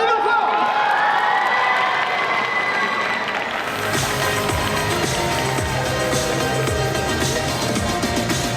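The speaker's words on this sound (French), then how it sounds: "On l'applaudit encore!" Loud crowd applause and cheering at a cosplay solo contest at the Made in Asia convention, a dense sustained roar of clapping and shouts that swells midway as music starts underneath.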